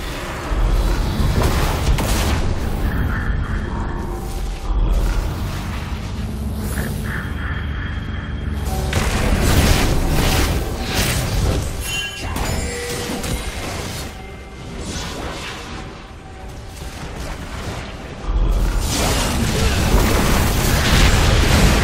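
A League of Legends turret is destroyed amid loud booming crashes, whooshes and clattering game effects that run continuously through a busy battle, with no voices heard.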